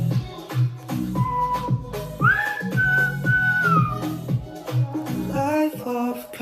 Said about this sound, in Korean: 이 휘파람 소리 제가 했어요 이거.